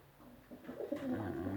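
Budapest pigeons shut indoors give a soft, low coo that swells over about a second, faint and close, with no other sound around it.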